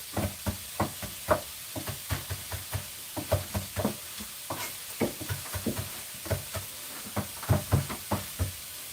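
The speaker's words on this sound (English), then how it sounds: "Now we're just chopping up the parsley." A knife chops fresh parsley on a board in a rapid, uneven series of close, crisp knocks, with faint background hiss and no talking.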